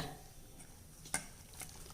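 Ground rice flour and water stirred together in a vessel for koozh vadagam batter: soft, close scraping strokes with one sharp clink against the vessel near the middle, and no voices.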